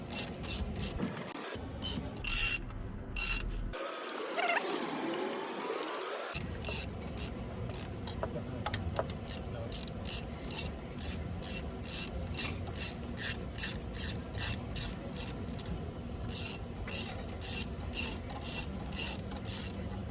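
A hand ratchet tightens the cylinder head bolts on a 2002 Acura MDX, sounding as a long run of rapid close metallic clicking bursts with a short pause partway through, and no talking.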